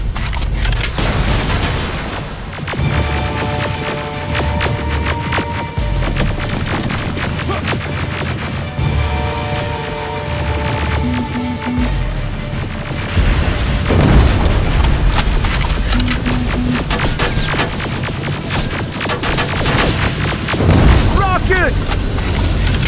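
Rocket blasts and heavy explosions in the video game Terminator Resistance, loud booming crashes and rumbling debris layered with gunfire, game music and shouted voices.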